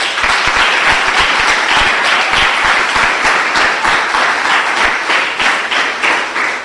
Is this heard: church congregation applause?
yes